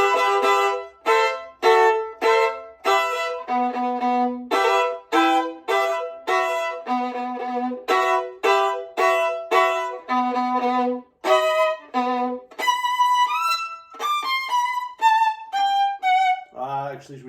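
Solo instrument playing a Praeludium and Allegro passage with top and bottom notes combined, giving quick alternating high and low notes in a steady pattern, close and clear, ending in a run of sustained descending tones.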